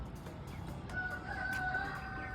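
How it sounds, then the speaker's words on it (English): A rooster crows once in the distance in Osu, Accra, Ghana, a faint drawn-out early-morning call over quiet background noise. "Oh, y'all heard a rooster crowing"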